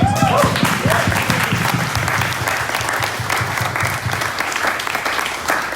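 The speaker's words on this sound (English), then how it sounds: "I just want to acknowledge you and give you a round of applause" Sustained applause from supporters at a Tech Brew campaign gathering in Iowa, dense and steady clapping throughout with a faint voice near the start.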